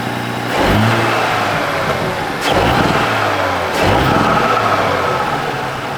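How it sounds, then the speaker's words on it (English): Stock Audi SQ5 (B9) engine revved three times in quick bursts, each rising and falling back to a steady idle, close and fairly loud with no talking. "let's go ahead and get a stock comparison of what this car sounds like stock"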